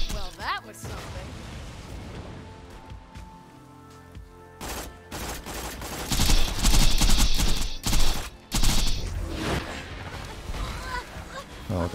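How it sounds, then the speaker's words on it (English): Grenade blasts and gunfire in Borderlands, with repeated loud bursts and crackling booms clustering in the second half amid game music and effects, partly over talk. "Oh, I got hit by that grenade."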